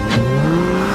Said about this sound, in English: a car screeched to a stop in front of us